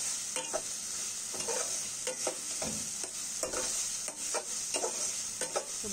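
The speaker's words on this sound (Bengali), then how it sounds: "এভাবে সমস্ত গুঁড়গুলো একসাথে মিশিয়ে আমি কষিয়ে নিচ্ছি।" Ground spices, cardamom and bay leaves are being sautéed in oil in a pan, with repeated rhythmic stirring scrapes over a steady bright sizzle, heard close and alone.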